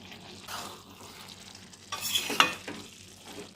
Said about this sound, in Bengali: ভালো করে কষাতে কষাতে একদম জল দেবো না, শুকনো শুকনো হালকা হালকা করে কষা কষা করে নেব।